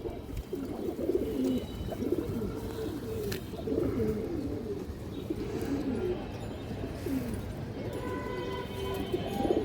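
A pigeon gives soft, low, repeated coos close by under light background noise, with a brief sharp click partway through.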